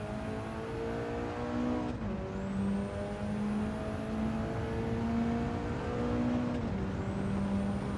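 A Mitsubishi race car in Gran Turismo 7 at Red Bull Ring screams at high revs in a steady, sustained drone, with two quick upshifts briefly dropping the pitch before it climbs again.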